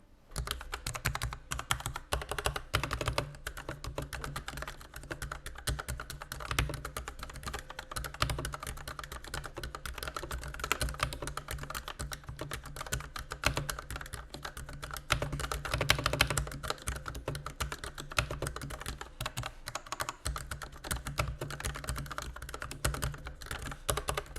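Typing on a Corsair K60 PRO keyboard with Corsair Viola switches, a steady, dense run of close keystrokes that continues without pause, with no voice.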